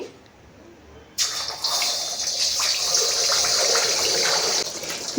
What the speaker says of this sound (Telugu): ఆయిల్ బాగా హీట్ అయిన తర్వాత మనం కలిపి పెట్టుకున్న ఎగ్ని అయితే వేసుకునేయాలి.